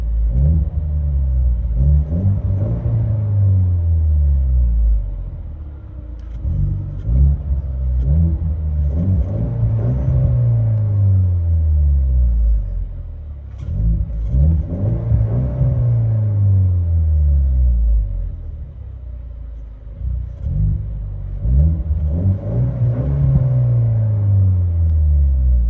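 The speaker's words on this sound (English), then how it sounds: "It's got a rev limiter on it, so we can't rev it higher." Revs from a 2022 Ford Mustang EcoBoost fitted with a Roush axle-back exhaust, heard from inside the car: four loud, deep swells that climb and fall back against the rev limiter, over a steady low rumble.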